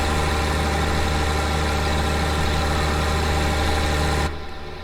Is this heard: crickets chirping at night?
no